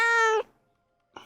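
Raven the cat lets out one loud, close meow lasting under half a second, then silence, and a short faint chirp at the very end.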